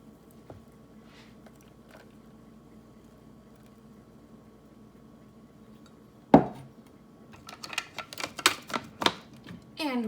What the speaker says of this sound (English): And we are going to mix it one last time.